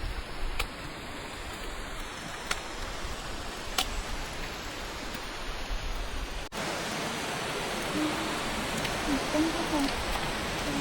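Rain falls steadily on a rocky mountain valley trail in autumn, a constant close broadband patter with a few louder drips, and a faint voice speaks briefly beneath it.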